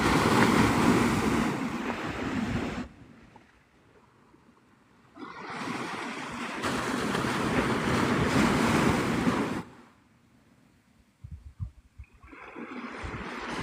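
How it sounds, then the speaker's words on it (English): Ocean surf rolling in at Navarre Beach, Florida, at sunrise, loud broadband wash in long surges with brief quieter lulls between breaking waves, plus some wind noise on the microphone. "This is Navarre Beach, Florida."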